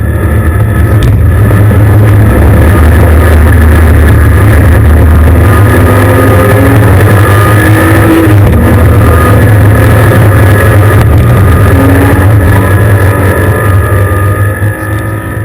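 Porsche race cars at Silverstone roar past close and loud in a continuous wash of engine drone, with whining gear changes and wind buffeting the microphone.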